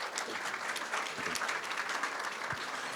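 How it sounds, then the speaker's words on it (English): Steady applause from an audience at an awards presentation, a dense unbroken wash of clapping at moderate level through the whole stretch, with no one speaking over it. "I'd like to give a special round of applause for him"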